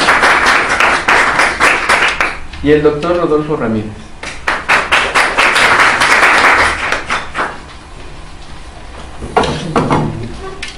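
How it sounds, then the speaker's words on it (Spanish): A conference audience claps for speakers introduced at an academic session, with bursts of dense applause separated by someone talking into a microphone; the clapping swells loudly, fades while he speaks, then briefly returns near the end. "y un aplauso"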